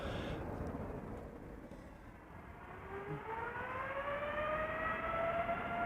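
A KLM Boeing 787-9 Dreamliner, five years old, departs Amsterdam Schiphol Airport on a flight to Bogota, its engines a steady broadband roar with rising whining tones, loud and building throughout with no talk.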